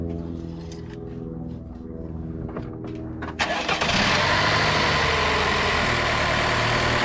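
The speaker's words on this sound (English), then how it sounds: "the motor, to pump the new oil through the new oil filter" An engine on a piece of heavy equipment cranks and catches after an oil and filter change, then settles into a loud, steady run that pumps the new oil through.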